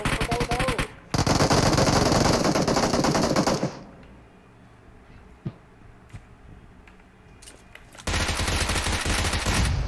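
Bursts of automatic gunfire in the battle royale game BGMI, loud, dense rapid shots in two long volleys with a quieter gap of scattered sounds between them.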